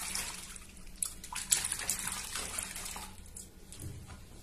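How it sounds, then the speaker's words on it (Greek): Shampoo being stirred by hand into lukewarm water in a basin to wash a wig: a steady, close swishing and sloshing that swells in the middle and then softens, with no voices. "Σε μία λεκάνη με χλιαρό νερό βάζουμε μία χούφτα σαμπουάν."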